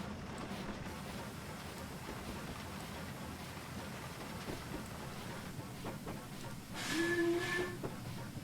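Jubilee Class steam locomotive in Train Simulator 2021 on the Keighley & Worth Valley Railway, chuffing and rattling quietly at a distance with rail clatter, then a brief steam whistle call near the end.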